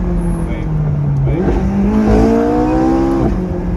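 A twin-turbo Ferrari F12 engine roars up close, its pitch climbing steadily as the car accelerates hard.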